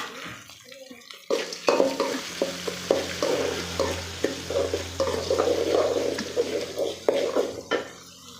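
Onions and tomatoes sauté in a pan for a coriander, mint and curry-leaf chutney, a steady close sizzle broken by repeated spoon scrapes and clinks against the pan, with no talking.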